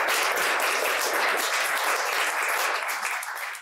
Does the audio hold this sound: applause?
yes